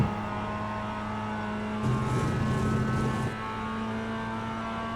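A Mazda MX5 race car engine drones steadily while lapping Lime Rock Park in iRacing, with a brief surge in revs partway through before settling back to a constant hum.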